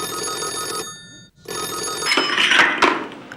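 A telephone bell rings close and loud in two bursts with a short silent gap between them, followed by brief handling noise.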